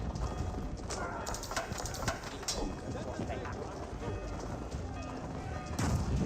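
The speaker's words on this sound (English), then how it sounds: "This horse is moving around." In an Age of Empires 4 match, a horse's hooves clip-clop in a quick, continuous patter, set quietly under game noise with speech over it.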